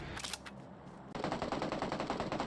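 M416 rifle fire in a shooting video game: a quieter stretch of shots, then a loud, sustained automatic burst of rapid, evenly spaced rounds up close.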